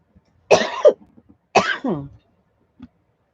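Two separate bursts of harsh coughing close to the microphone, each a quick cluster of rough coughs, followed by a faint small sound and quiet.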